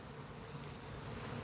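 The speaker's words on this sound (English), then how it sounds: "this whole zone is just covered with flying bees" A dense, steady buzz of honey bees flying around beehives fills the air, like a swarm nearby, constant and unbroken throughout.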